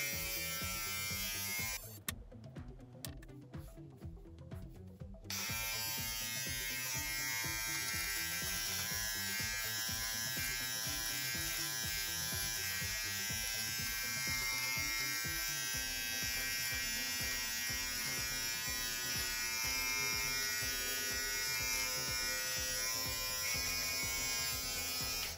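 Electric nose trimmer from a Braun All-In-One Trimmer 3 MGK3221 running against skin on a hand, a steady high motor buzz held throughout with a brief rougher stretch near the start.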